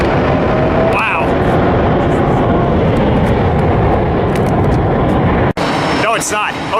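A UPS cargo airplane flies into Lindbergh Field, its jet roar loud and steady throughout, with people talking over it.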